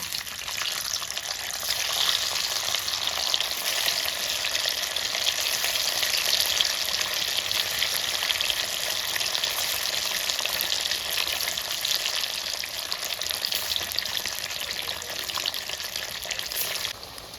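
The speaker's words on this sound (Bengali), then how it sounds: "তো আমার কড়াই গরম হয়ে গেছে এবার পনিরগুলো ভেজে নিচ্ছি" Paneer pieces frying in mustard oil in a hot wok make a loud, dense, continuous sizzle that holds steady from start to finish with no speech.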